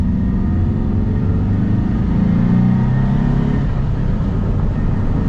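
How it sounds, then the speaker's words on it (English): Car engine runs steadily with a faint mechanical whine from a noisy clutch throwout bearing, the drivetrain loud because only a boot covers the shifter; steady drone and low harmonics throughout, no talk. "A little bit of noise. I think that's the throwout bearing, like I said."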